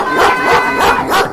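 A dog at a dog show gives several quick, high, yelping barks in close succession, loud and near, with no talk over them.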